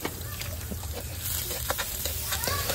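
Ginger, garlic and onion sauté in a pan for a Bicol Express dish, giving a steady close sizzle with scattered scraping and stirring noises, without talk.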